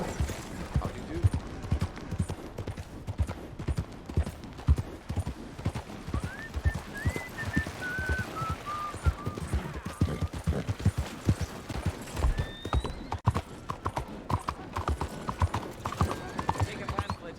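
Horse hooves clip-clopping in Red Dead Redemption 2, steady rhythmic hoofbeats throughout under game voices and talk, with a brief whinny-like tone in the middle.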